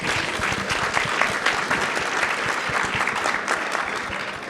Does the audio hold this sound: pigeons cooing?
no